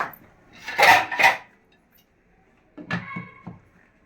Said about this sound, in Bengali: এখন এটাকে আমি ঢেকে দিই